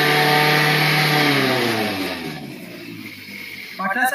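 Car engine during an inspection, held at medium RPM then winding down, a steady mid-pitched drone that gradually drops in pitch and fades, with a brief burst of sound at the end.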